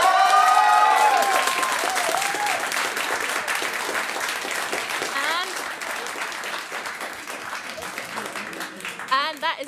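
Audience applause at a student union election question-time night, a loud burst of sustained clapping and some cheering that slowly fades while people talk over it.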